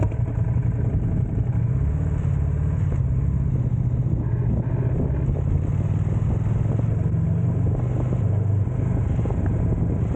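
A motorcycle cruises on a highway, with a steady, loud engine drone and wind roar that never lets up and no talking.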